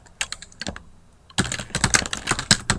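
Fingers type a name on a computer keyboard in a few scattered taps, then a fast steady burst of close, crisp keystrokes.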